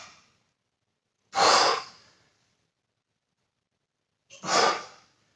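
Two strong, breathy exhalations during a home push-up workout, separated by silence, each a loud forceful rush of breath that fades out, with a faint breath at the very start.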